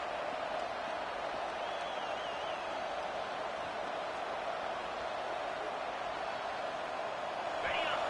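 College football stadium crowd cheering, a steady, dense roar of many distant voices holding at an even level throughout, with a play-by-play announcer talking over it.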